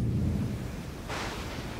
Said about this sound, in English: A violent storm rolls in.